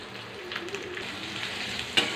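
Onions and green chilies sizzle in hot oil for chicken fry, a steady soft frying hiss with occasional stirring scrapes and a sharper clink near the end.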